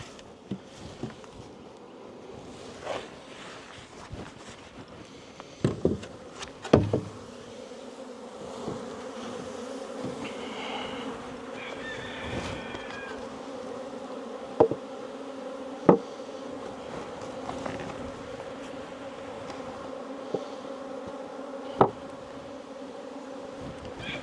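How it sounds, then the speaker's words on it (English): A swarm of bees at a hive hums steadily, close and continuous, with occasional sharp knocks and taps over the droning buzz. "we still got a whole bunch of bees right here"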